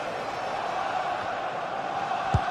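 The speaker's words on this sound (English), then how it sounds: "The crowd certainly think so. Just listen to them." Steady, dense roar of a stadium crowd in a football video game, a continuous wash of massed voices at even loudness with one brief thump near the end.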